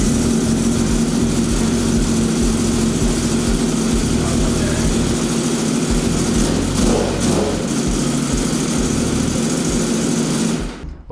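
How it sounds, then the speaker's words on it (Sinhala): Ducati superbike engine idling after being started in a showroom, a loud steady rumbling drone that holds even throughout, then cuts off abruptly at the end. "අපි මේ බයික් එක ස්ටාර්ට් කරලා බලමු."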